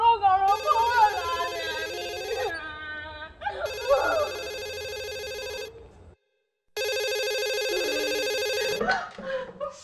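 Telephone ringing in long electronic bursts separated by short gaps, close and clear, with people talking between rings.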